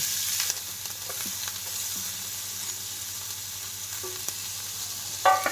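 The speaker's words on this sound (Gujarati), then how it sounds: "આપણું તેલ આવી ગયું છે તો બધું જ એકી સાથે એમાં નાખી દઈએ આપણે" Chopped tomato, cucumber, carrot and capsicum frying in hot oil, an even hiss of sizzling with occasional soft stirs and a louder clatter of the spoon at the close, near and without talk.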